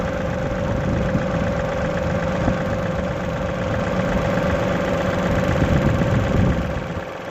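A John Deere 2038R compact tractor fitted with a 270B backhoe runs its engine at a steady low idle-like drone as it pulls away slowly, close by and continuous, with no speech.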